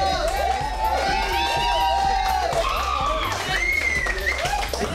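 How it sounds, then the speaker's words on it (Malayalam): Crowd cheering, shouting and clapping from a short distance, a dense continuous mix of excited voices and scattered applause with whoops rising and falling. "ഭയങ്കര പൊരിഞ്ഞ കയ്യടിയാണ് അപ്പുറത്തുനിന്ന് വരുന്നത്"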